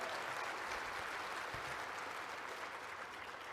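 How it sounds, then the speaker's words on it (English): Audience applause fills a lunch event hall, steady and dense throughout, a broad continuous wash of clapping from a large crowd. "While y'all are clapping"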